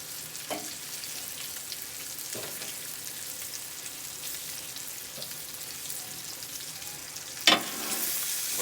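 Sausage patties and onions frying on a griddle give off a steady, even sizzle, with a few faint knocks along the way. Near the end a sharp scrape rings out, and a louder hiss follows.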